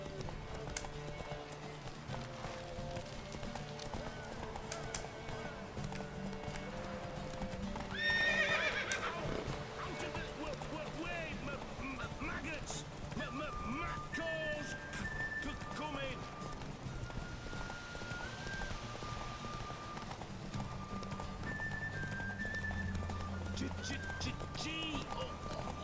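Roach the horse in The Witcher 3 neighs once, loud and close, while hooves keep up a steady clip-clop throughout. Game music and ambience play underneath, and someone talks over the sound.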